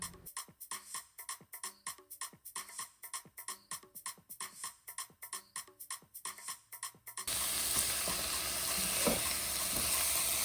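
Saltfish frying in a pan, with rhythmic stirring scrapes and short sizzles for several seconds, then a loud continuous hiss and sizzle taking over for the rest.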